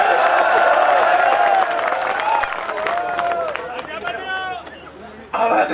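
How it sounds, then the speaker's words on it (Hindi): Loud audience applause and crowd noise at a Hindi comedy poetry recital, a dense wash of clapping mixed with chatter and cheering that runs through the whole stretch and surges again at the end. "एक बार जोरदार तालियां बजा के"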